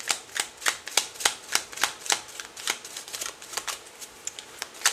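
Tarot cards riffle in steady repeated bursts, about a dozen crisp papery flutters close to the ear, with no talking over them.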